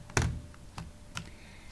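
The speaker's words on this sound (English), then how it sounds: "I'll just type it in" A few separate keystrokes on a computer keyboard, three distinct taps spaced out over under two seconds, close and fairly clear with no talking.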